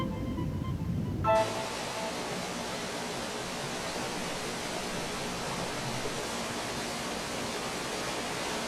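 A torrent of water pours down a waterfall in the primeval forest valley of Jirisan, a loud, steady, unbroken rushing roar that starts abruptly after a brief softer opening.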